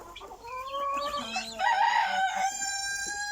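A rooster crows loudly and close, its long call standing out over hens and guinea fowl clucking in a backyard coop.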